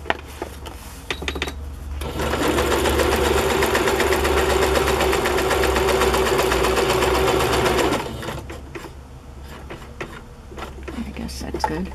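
A sewing machine runs a steady straight stitch along the sides of fabric pockets, loud and continuous for about six seconds, with brief handling noises and a voice speaking before and after.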